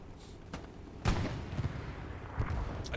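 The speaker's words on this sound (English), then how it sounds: "Explosion in the back, and was a repair station presumably." Explosions and gunfire in a tank video game during an esports tournament final: several booming blasts and rumbling artillery-like bursts, the loudest near the middle, over a constant battlefield din.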